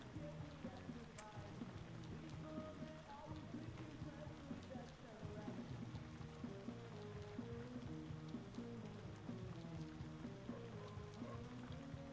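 Steady rain patters in the video game Sunday Gold, a faint, even wash of drops with soft tonal game music underneath and no talk.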